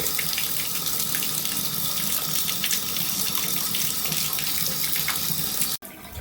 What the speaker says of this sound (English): It's just dripping down this right here.